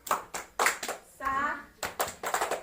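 A fourth-grade class performs the 'tepuk salut' clapping routine: short bursts of sharp group claps in a quick rhythm, broken midway by a brief sung or chanted voice before the clapping resumes.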